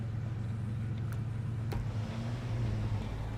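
Chevrolet pickup truck engine in the off-road driving game SnowRunner, a steady low idle drone with a couple of faint clicks, the pitch rising slightly near the end.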